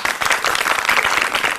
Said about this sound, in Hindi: जितने खुश हैं उतनी तालियां बजा दें।